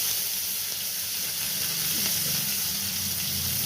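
Chopped onions frying in hot oil with a few black cumin seeds in a pan, a loud, continuous close sizzle with a faint stirring scrape partway through and no talking.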